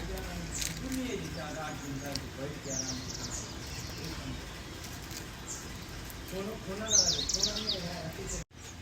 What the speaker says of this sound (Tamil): இந்த பாருங்க, சிட்டுக்குருவி சாப்பாடு சாப்பிட்டுக்கிட்டு.